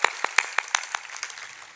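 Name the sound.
audience applause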